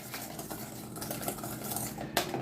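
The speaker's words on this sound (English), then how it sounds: "I'm gonna whisk that in there." A whisk clatters quickly and rhythmically against a bowl while seasoning is beaten into a crab stuffing for salmon, a dense, busy rattle heard close up with no talking.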